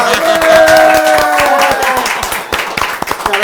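Many hands clap quickly and steadily for several seconds, loud and close, thinning out toward the end, with a sustained tone ringing beneath at first.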